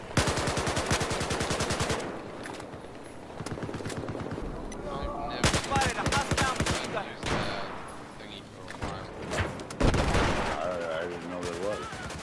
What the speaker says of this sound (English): As you can see, I'm taking down enemies pretty quickly with the gun.